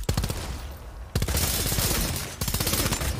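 Rapid gunfire in the Bloodhunt battle royale game, dense automatic bursts filling the clip with brief gaps, close and loud with no talking.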